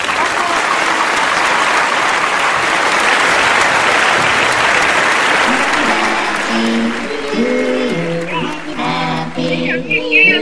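An audience claps in a loud, sustained burst of applause that thins out toward the end, as a voice begins speaking over the fading claps.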